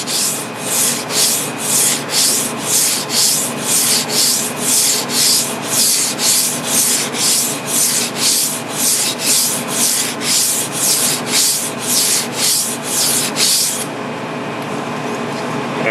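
Kitchen knife stroked at 15 degrees across a wet whetstone, a rhythmic gritty scraping repeated about twice a second for some fourteen seconds, then a quieter stretch at the end.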